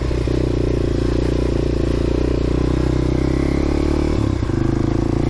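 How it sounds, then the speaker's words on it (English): A motorcycle engine held at steady high revs after riding through deep water, a loud continuous close drone with mechanical clatter, briefly dipping near the end before rising again. "Get the revs up and dry the engine out a bit."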